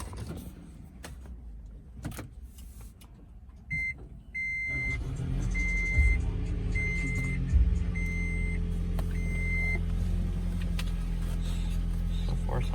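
A car engine starts and settles into a steady idle, with a chime beeping at regular intervals and a few clicks nearby.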